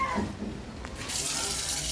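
A faucet turns on and water gushes out in a steady hissing stream after a brief moment of quieter handling sounds.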